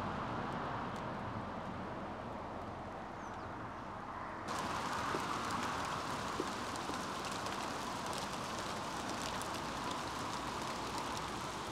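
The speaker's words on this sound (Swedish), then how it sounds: "nu kommer regnet igen då" Rain falling outdoors at a fishing spot, a steady broadband patter that grows denser and louder partway through as the shower picks up, with no talk.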